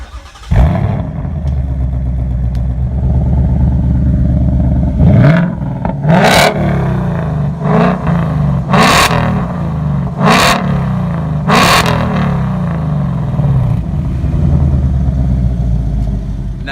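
A Ford Mustang GT V8 with an X-pipe exhaust starts up with a loud bark, then idles with a deep rumble broken by several sharp, loud revs close by.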